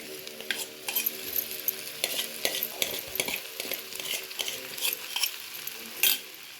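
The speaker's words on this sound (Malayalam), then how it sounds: "അതിന് ശേഷം നല്ലപോലെ ഇളക്കി മിക്സ് ചെയ്യുക." Cooked Maggi noodles being stirred and mixed in a frying pan, with soft scraping and clinks of a utensil against the pan over a faint sizzle, fairly quiet and intermittent.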